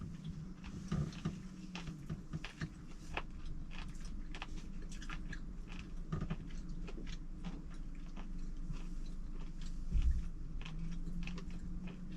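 A beer snack is chewed close up inside a camper van, with steady crunchy bites and soft mouth noises repeating throughout, and no talking.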